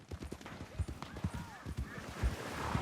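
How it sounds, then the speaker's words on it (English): Several horses clip-clop at a trot in Red Dead Redemption 2, a quick rhythmic patter of hooves fairly close, with a brief whinny and a voice talking over it. "Nope, they've got horses."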